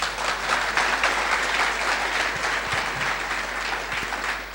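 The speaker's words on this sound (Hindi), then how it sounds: "कुछ समझ में आया तो ताली बजनी चाहिए।" A seminar audience claps in a hall, sustained, even applause from many hands at moderate distance, lasting throughout with a steady low hum beneath it.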